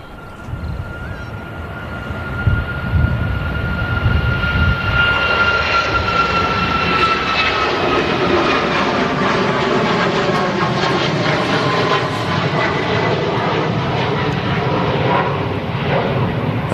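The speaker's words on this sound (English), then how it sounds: "Here goes the Ryanair 737 MAX" A Ryanair Boeing 737 MAX 8200 taking off at Manchester Airport, its engine roar swelling from a distant rumble into a loud, sustained broadband thunder with a high whine that holds to the end.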